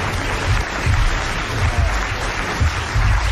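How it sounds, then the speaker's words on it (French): A studio audience applauds during a French radio comedy show, sustained dense clapping from a crowd that carries evenly for several seconds, fairly close and without speech over it. "Alors vous allez applaudir comme elle le mérite, Madame le Prieur, d'Agon-Coutainville."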